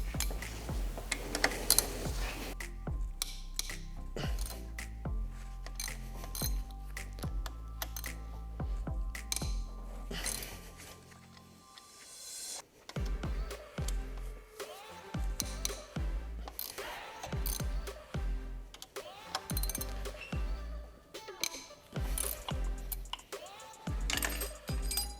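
Metal parts and hand tools clank and jangle while the bottom end of a Dodge Neon engine is taken apart, with rod and main bearings and rod bolts coming out; close, busy clatter with a short quiet pause midway and no talk.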